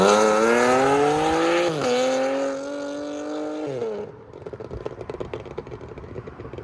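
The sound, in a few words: supercharged Audi SQ5 3.0L V6 exhaust with downpipes and X-pipe revving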